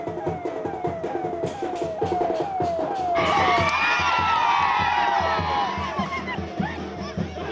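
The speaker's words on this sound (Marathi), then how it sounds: "त्याचवेळी कार्यकर्त्यांचा जल्लोष या ठिकाणी पाहायला मिळतो" Party workers cheer and whoop as Raj Thackeray's convoy sets off from Chhatrapati Sambhajinagar, a dense crowd roar swelling into loud shouting over rhythmic banging and a lower background chant.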